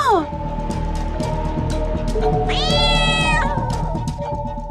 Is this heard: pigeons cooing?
no